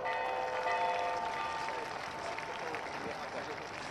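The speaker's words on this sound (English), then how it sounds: "Give them a round of applause." Crowd applauding at the close of a polo final, a steady broadband patter of clapping that carries on for the whole stretch, with background voices and a ringing tone mixed in.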